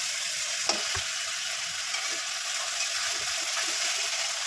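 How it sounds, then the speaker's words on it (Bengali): A steady, hissing sizzle of ginger, green chili, tomato and cumin spice paste frying in a hot pan, continuous and close, with occasional soft stirring scrapes. "কষিয়ে নেবো মশলাটা।"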